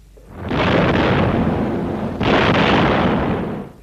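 Anti-aircraft flak bursts around a WWII Martin B-26 Marauder bomber, heard as two long, loud, rumbling booms that swell and roll away, the second following closely after the first.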